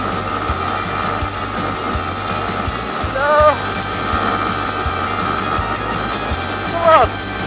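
Sinnis SM XE 125 motorcycle held at full throttle on a straight dual carriageway, a steady droning engine buried under heavy wind roar, with two short rising whines near the middle and the end.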